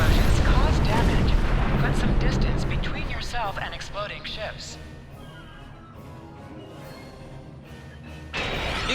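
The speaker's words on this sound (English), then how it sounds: "Explosions cause damage. Put some distance between yourself and exploding ships." Starships blow up in Star Trek Online, with booming, crackling explosions loudest at first, then fading into rumbling debris under a voice.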